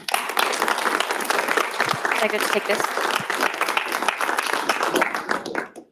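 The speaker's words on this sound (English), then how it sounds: "We want to give a quick round of applause as Julia comes up here." Audience at a TED-style talk event applauding a speaker as she comes up, continuous clapping at steady volume with a brief spoken question heard through it before it stops.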